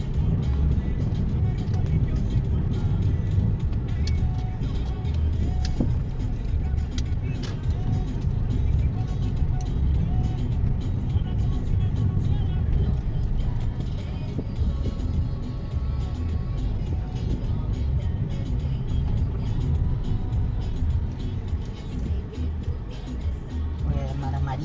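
Steady low rumble of a car driving through San Pedro Sula, Honduras, on the way to a home, continuous road and engine noise throughout with faint voices in the background.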